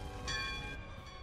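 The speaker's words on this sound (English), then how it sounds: "The raiding bell." Alarm bell ringing in the One Piece anime, a steady sustained metallic tone with bright harmonics, fairly continuous and moderately loud over a low rumbling background.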